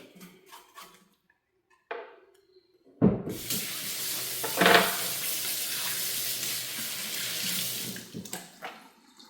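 Tap water runs steadily into a kitchen sink as food is washed for a rice and beans meal with stew, a loud continuous gush lasting several seconds after brief quiet handling noises, then cutting off.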